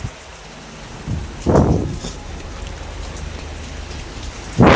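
Rain falls steadily on a pigeon house, a constant patter with two loud bursts of heavier drumming or gusts partway through and at the end.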